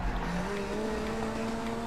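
Racing car engine in the video game Combat Race 2 drones loud and steady at high speed, its pitch climbing slightly, with no talking over it.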